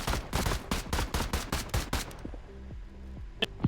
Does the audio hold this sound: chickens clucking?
no